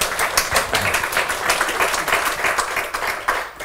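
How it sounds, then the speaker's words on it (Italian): A group of young people applauds at a closing gathering, loud continuous clapping with some uneven rhythmic bursts, lasting a few seconds before fading slightly at the end. "Dai, un applauso, ragazzi."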